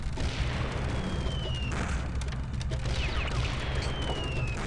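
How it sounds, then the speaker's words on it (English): Pirates fire on the player in Rayman 2 during a chase, with repeated booming shots and whistling projectiles over a loud, continuous rumble. "And again with the shooting."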